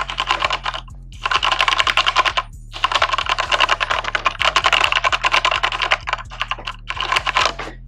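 Fast, steady typing on a Corsair computer keyboard, crisp clacky keystrokes in bursts with brief pauses, close up and fairly loud.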